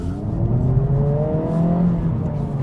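A 2024 Honda Civic Type-R engine revs up through the upper end of its power range, a steady rising drone heard from inside the car with climbing engine pitch and no talk over it.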